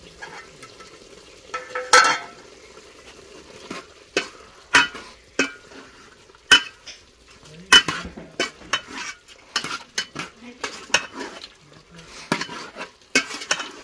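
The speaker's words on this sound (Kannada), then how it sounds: "ಶುಂಠಿ ಬೆಳ್ಳುಳ್ಳಿ ಪೇಸ್ಟ್ ಹಾಕ್ತಿದ್ದೀನಿ" Homemade ginger-garlic paste sizzles in a pan over a wood-fired stove for a chicken fry, with a soft frying hiss under repeated sharp scrapes and clinks of a spatula stirring against the metal.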